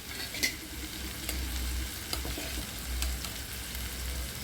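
Tomato and ground spice masala for egg masala fries in a pan, a continuous soft sizzle over a low steady hum, with a few faint clicks of a spoon, quiet and without speech.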